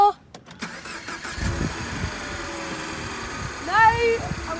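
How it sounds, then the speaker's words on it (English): A car engine cranks briefly and catches, then settles into a steady, close idle. A voice is heard over the running engine near the end. "now we're going to start the car up and hear what the engine sounds like"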